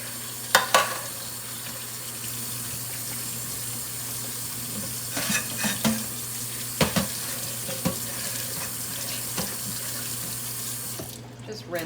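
Tap water runs steadily into a kitchen sink while dishes are rinsed, with intermittent clinks and knocks of dishware over a low continuous hum and no speech.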